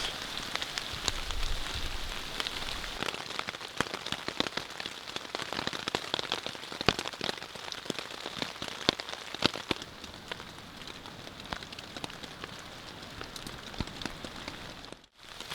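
Rain falls steadily on a hot tent at a camp, a dense, continuous patter of drops striking the fabric, fairly close and loud, with no talking.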